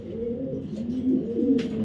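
A top-quality Taiwanese racing pigeon coos close by in low, rolling throbs that run steadily through the whole moment, with no voices.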